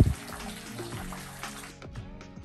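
Small trickle of water at Santa Ynez Falls, a thin steady splashing and dribbling heard close by, with a brief louder splash at the very start and no talking.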